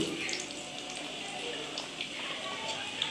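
Potato pieces fry in hot oil for an aloo gobhi dish, giving a steady, soft, even hiss of sizzling throughout.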